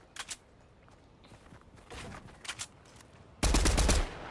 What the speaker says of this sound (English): I take some shots at him.